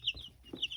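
Young chickens in a brooder give a brief burst of clucks and high peeps, close and fairly loud, with no one speaking.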